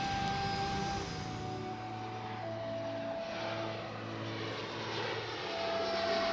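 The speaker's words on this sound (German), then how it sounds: "Schaut, das ist doch das Flugzeug." An airplane drones steadily overhead, its engine rumble even and moderately faint across the whole span, with no voices.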